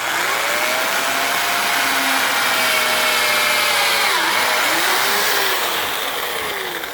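A power drill whines steadily at high speed, its pitch dipping and recovering as the bit bores hinge holes into a wooden door.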